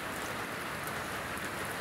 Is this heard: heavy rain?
yes